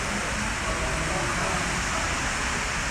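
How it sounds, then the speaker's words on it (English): Heavy rain pours steadily on a roof over an indoor spot at a traders market show, a dense, even hiss that holds without a break throughout. "It is raining hard up in here."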